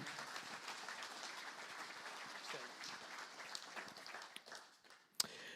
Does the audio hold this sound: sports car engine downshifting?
no